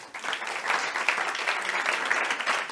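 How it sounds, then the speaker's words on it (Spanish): Audience applause in a hall during the opening of a business forum on equality in Galicia, a steady moderate clapping from a crowd that holds evenly throughout, with no clear talking over it. "Adelante, Patricia, pueden aplaudir."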